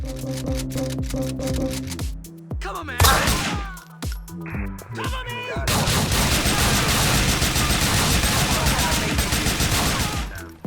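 Gunfire in GTA 4 running the Fusion Fix mod: rapid bursts of weapon fire, with a few separate shots first and then a long, dense, continuous stretch of automatic shooting, loud and close, with no voices.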